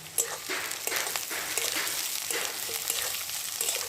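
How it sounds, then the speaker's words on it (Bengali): Eggplant fries with onions in a pan, giving a close, steady sizzle broken by a few stirring scrapes across the short stretch. "এবার বেগুনগুলো দিয়ে একটু ভালো করে ভেজে নেবো"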